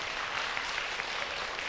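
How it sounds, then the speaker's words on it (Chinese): A church congregation at a Sunday worship service claps together, a dense, even wash of applause heard from a little distance, continuous and moderately faint throughout. "赞！ 拍手！"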